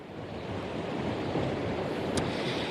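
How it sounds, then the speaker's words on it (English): Steady roaring wind from Storm Debby buffets the microphone, a constant rushing noise with no letup and no voices. "as you can tell, it's extremely windy"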